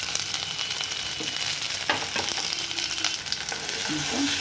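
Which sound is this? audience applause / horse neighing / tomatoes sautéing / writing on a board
tomatoes sautéing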